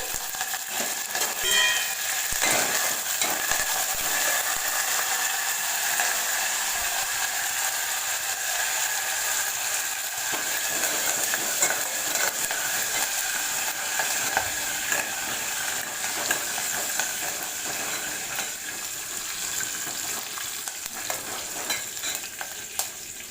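Fenugreek, mustard and cumin seeds fry in hot oil, giving a steady close sizzle and crackle with occasional stirring scrapes, no voices.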